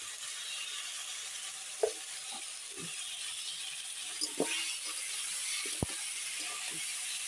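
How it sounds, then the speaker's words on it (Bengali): Broccoli fries gently in white oil with salt and turmeric, a faint, steady hiss in the pan with occasional light clicks from a utensil. "এখন আস্তে আস্তে ভেজে নিই।"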